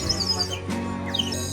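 A water-filled bird whistle toy bought at a Pondicherry stall, blown to imitate a sparrow, giving a few short warbling chirps and trills in a busy outdoor setting.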